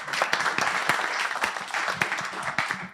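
An audience at a panel discussion during a Holacracy meetup in Amsterdam gives a panelist steady, dense applause that is close and loud throughout, with no clear speech over it.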